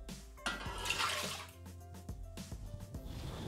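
Milk poured into a Thermomix bowl while making sweet Halloween buns, a faint close splashing and gurgling pour lasting a few seconds with soft knocks and handling sounds.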